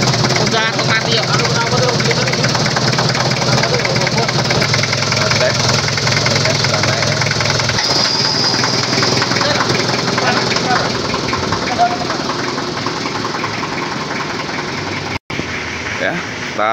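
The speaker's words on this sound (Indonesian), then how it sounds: "cara merakit mesin Daihatsu TAF GT tahun 91 dari nol sampai mesin running" A rebuilt 1991 Daihatsu Taft GT engine idles close by with a steady, even running note that holds throughout, broken only by a brief dropout near the end.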